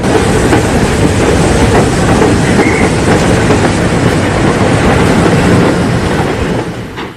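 A steam train departs, rumbling steadily with a dense, continuous roar and faint rhythmic clatter, loud and close, easing off slightly at the very end.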